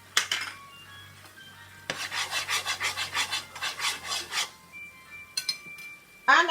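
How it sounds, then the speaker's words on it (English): A lime is rubbed over a zester above a pot, giving quick rhythmic rasping strokes in a steady burst, framed by light clinks of metal and utensils in a kitchen. "I'm going to add the zest of 1 lime"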